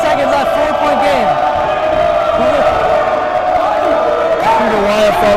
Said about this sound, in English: See the YFL fans booing May